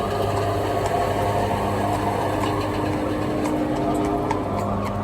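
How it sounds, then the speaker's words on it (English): A large pump engine runs steadily at a horse-breaking yard, a constant droning hum with low mechanical vibration throughout, loud and close, with no talk over it. "Big pump going on here."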